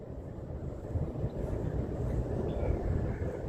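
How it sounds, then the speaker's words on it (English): A vehicle engine revs on a street in Waikiki, a loud, steady low rumble that swells slightly and holds throughout, with no voices. "The revving of your engine"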